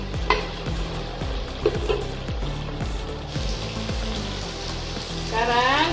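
Spices are stirred in a hot pan for a Padang-style chicken soup with potato and carrot, a spatula scraping in a steady repeated rhythm over a continuous frying sizzle.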